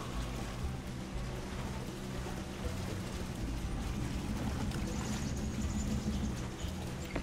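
A truck wades through deep water in the Spintires video game, with a steady, moderately quiet wash of sloshing and churning water that continues evenly throughout.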